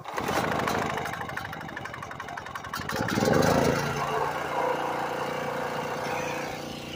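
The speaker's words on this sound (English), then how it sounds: "And that is how you crank up a generator in a blizzard." Generator engine cranked by hand without a pull string during a blizzard, a steady close mechanical drone that rises and roughens midway and runs continuously with no talk.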